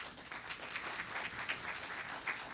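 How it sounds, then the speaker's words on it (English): Audience applause for presenters at the close of a regional economic outlook forum session, a steady, moderately faint patter of many hands clapping throughout with no speech. "So we could give them a round of applause."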